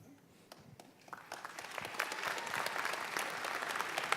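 Audience applause at a panel event, starting sparse with a few claps and swelling into steady, fairly distant clapping from a crowd.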